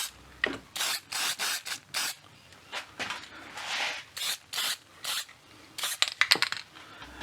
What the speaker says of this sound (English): So let me spray it.